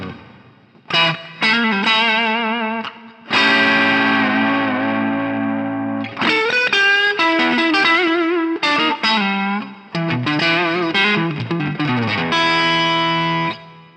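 An electric guitar played through a KingTone Blues Power overdrive pedal, loud and driven, with sustained chords and bursts of choppy, stabbed phrases full of harmonic grit, heard alone without talking.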